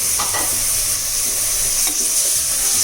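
Washed mutton, about half a kilo, sizzles loudly in a hot pan while being stirred for a biryani. There is a steady, intense frying hiss with scraping stirs, close up, and no talking.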